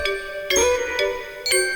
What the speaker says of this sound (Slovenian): na vratih pa je nekdo pozvonil